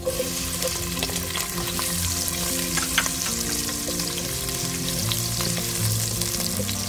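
Onions fry in a pot for ox tripe stew with a steady, bubbly sizzle and occasional stirring clinks, loud and close throughout.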